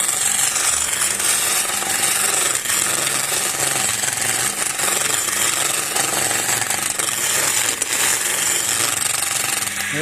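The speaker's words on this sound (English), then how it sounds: "If I take my big skew chisel" A skew chisel works a wooden walking stick spinning on a lathe, making a loud, continuous rough scraping and rubbing that runs without pause.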